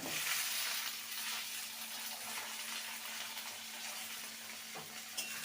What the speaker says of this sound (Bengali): সবজিগুলোকে ভালো করে ভেজে নেব